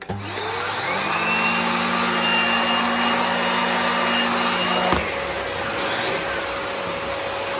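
A Nilfisk GM80 vacuum cleaner with a turbo brush runs close by as a loud, steady whine that rises in pitch as it spins up, then cuts off sharply and winds down into a fading hum.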